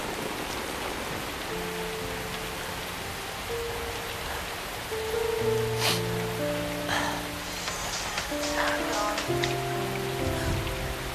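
Rain falls steadily in a city street, a constant hiss beneath layered tonal background music with no voices.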